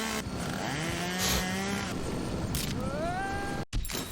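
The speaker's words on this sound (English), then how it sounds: "Chainsaw." A chainsaw revs in The Henry Stickmin Collection game, a buzzing, droning motor whine that rises and falls in pitch for several seconds, with a short cut-out near the end.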